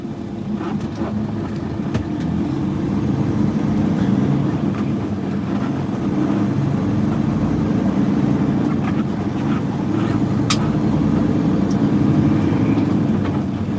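A semi truck's diesel engine drones steadily with a deep, loud rumble, rising and settling as it works up through the gears at low speed.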